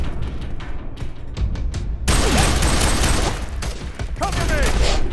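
Dense automatic gunfire and explosive impacts from a prison firefight in the FEAR 3 video game, loud and continuous after a sharp onset, with shouted squad callouts mixed in.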